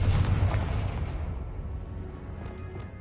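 A Confringo blasting spell explodes in a Harry Potter video game, a single heavy boom that opens the clip and rumbles away over a few seconds, at moderate loudness with no speech.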